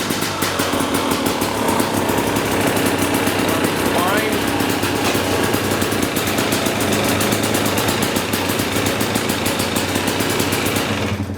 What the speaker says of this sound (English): So I'm ready to start the bike and test that the clutch works okay.